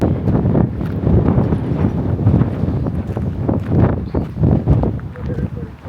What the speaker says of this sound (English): we went to the Golden Gate viewpoint, and it was, dare I say, windier than the Windy City